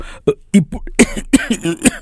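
A weak, ailing man sitting under a tree on a riverbank coughs in a quick series of short, harsh, close bursts with throat-clearing rasps between them.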